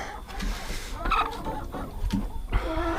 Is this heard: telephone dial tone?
no